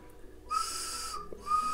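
A handmade clay folk whistle (Khludnevo style) gives a steady, breathy high tone, stops briefly, then sounds again, close and alone.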